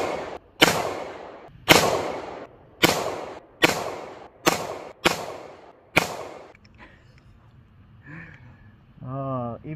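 A Warriorland MA1 crossbow fires seven times in a steady rhythm, each shot a sharp, loud snap with a short decay. Quieter handling noise follows, and a brief voice-like sound comes at the end.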